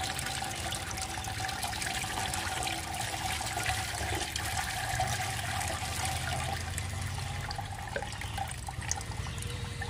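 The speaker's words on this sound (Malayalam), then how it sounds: "അപ്പോൾ നമ്മൾ അതിലേക്ക് തന്നെ കുറച്ച് വെള്ളം ഒഴിക്കുകയാണ്" More than a litre of water poured into a mixture of banana peels makes a continuous rushing, gurgling flow at moderate level.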